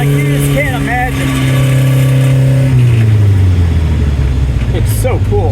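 The engine of a Lancia Fulvia HF Rally Speedster revs while driving, its pitch rising and falling as gears change, loud and close beneath wind noise, with someone talking over it.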